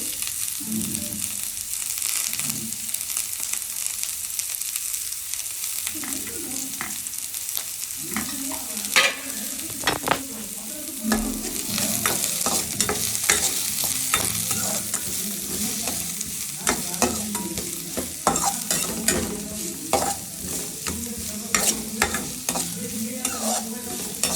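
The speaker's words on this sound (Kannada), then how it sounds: "ಗಾರ್ಲಿಕ್ ಆ್ಯಂಡ್ ಆನಿಯನ್, ಇದನ್ನ ಹಾಕಿ ನೀಟಾಗಿ ಫ್ರೈ ಮಾಡ್ಕೊಬೇಕು." Garlic and onion frying in a pan for a lady's finger fry, a continuous close sizzle broken by frequent scraping and clattering stirring strokes throughout, with no talk.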